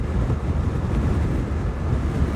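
Strong wind roars steadily and loudly over a 2025 BMW R 1300 RS motorcycle cruising at about 130 km/h near Narbonne, a dense continuous buffeting rush with no pause.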